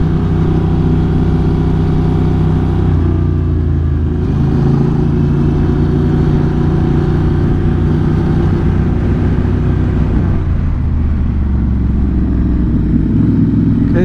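A Honda Rebel 1100 DCT cruiser motorcycle ridden on a racetrack in sport mode with automatic shifting, its engine a loud continuous rumble close by, pitch rising and easing through the corners with no talk.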